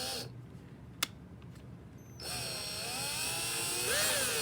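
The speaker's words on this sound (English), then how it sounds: "we're going to just drill probably about halfway" A small power drill bores a hole through a plastic bottle for a homemade flute, starting after a quiet pause with a steady whine that rises and wavers in pitch as it cuts through.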